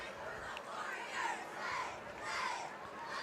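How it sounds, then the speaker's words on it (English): A restless home crowd at a Westerville North high school football game against Big Walnut murmurs and shouts in the distance, with the noise swelling in soft waves. "This home crowd growing restless as they're eager for a Westerville North stop."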